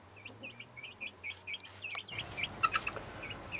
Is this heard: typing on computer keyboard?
no